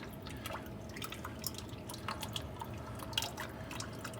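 Engine oil drains from a David Brown 990 tractor as a steady trickle with scattered soft drips. It is faint and close, with no talking.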